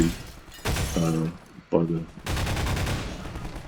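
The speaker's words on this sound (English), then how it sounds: "So he's shooting at a zombie or something." Rapid bursts of gunfire crackle in a Half-Life 2 level, an enemy firing at a zombie, with loud broadband volleys separated by short gaps and a voice talking in between.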